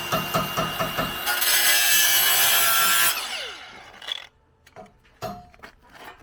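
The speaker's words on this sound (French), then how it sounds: "ça découpe des tôles" Sheet metal is cut in a garage workshop while making crash bars for an S14: a loud, harsh power-tool rasp runs steadily for a few seconds, then winds down into scattered clanks and knocks.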